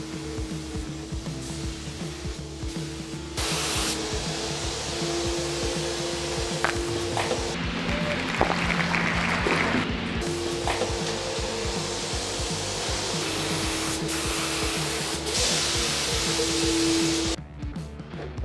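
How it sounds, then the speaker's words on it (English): A sprayer lays finish on parts of a home bar build in repeated long, loud hissing passes separated by short pauses, with a steady machine hum running underneath. "Let us spray."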